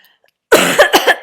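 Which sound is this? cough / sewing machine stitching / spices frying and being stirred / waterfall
cough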